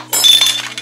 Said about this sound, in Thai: ที่เปิดขวดครับ